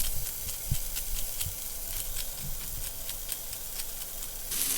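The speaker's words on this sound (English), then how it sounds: "it's starting to smoke up, so it's ready to put 2 patties in there" Two burger patties frying in smoking-hot olive oil, a steady close sizzle and hiss with faint ticks and pops throughout, no talking.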